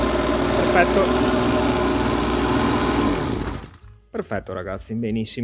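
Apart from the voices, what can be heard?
Oleo Mac BV300 leaf blower engine running after primer replacement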